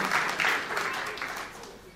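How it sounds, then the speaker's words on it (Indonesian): A church congregation claps in a short burst during a sermon service. The applause is dense at first, then thins and fades within two seconds. "Tepuk tangan yang meriah untuk kemuliaan Tuhan."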